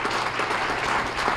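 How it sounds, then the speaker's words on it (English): Audience applause at an awards breakfast for small businesses, a dense, steady wash of clapping from a crowd that fills the whole moment without pause. "Give them a round of applause."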